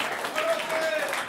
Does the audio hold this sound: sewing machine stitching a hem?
no